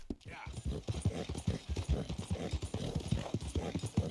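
Horse hooves clip-clop at a steady trot in Red Dead Redemption 2, a regular rhythmic stream of hoofbeats at close range, loud throughout with no voices over them.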